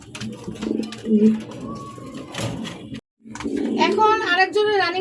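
A pair of Chila breed pigeons coo in soft, repeated low calls at close range, with a sharp mechanical noise and a brief gap midway, and someone speaking over them.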